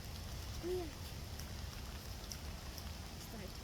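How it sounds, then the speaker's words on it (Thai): Light rain begins falling outdoors in the UK countryside, a soft continuous patter under a faint low background hum, with a brief voice sound early on. "ฝนเริ่มตกแล้วเพื่อนๆจ้า"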